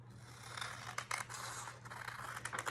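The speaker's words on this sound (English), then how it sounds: "scissors and we're going to cut right there." Scissors snip through paper in a series of close, crisp cuts with faint scraping between snips, while a steady low hum runs underneath.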